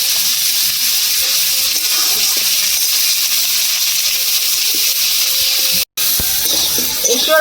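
Jackfruit and potato pieces frying in mustard oil in a kadai, a loud, steady close hiss and sizzle broken by one brief dropout.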